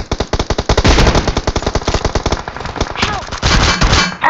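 Rapid automatic gunfire from a PUBG Mobile match rattles off in fast bursts, loud and close, with a short pause before another volley near the end.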